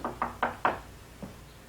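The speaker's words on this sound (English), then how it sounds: "There's another knock at the door." Four quick knocks land on a door in a brisk rhythm, followed by a single softer knock after a short pause, close and unaccompanied by any voices.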